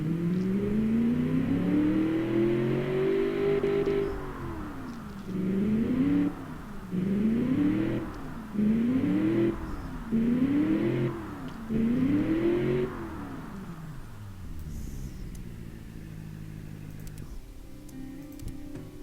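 BattleAxe V200 engine from Beowulf Big Blocks, heard up close as a low rumble rising into a long rev, followed by five quick throttle blips in a row before settling back to a steady idle.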